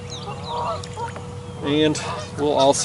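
Geese honk repeatedly at close range beside a river bend during a fishing trip, loud bursts of honking coming in clusters as someone briefly speaks underneath.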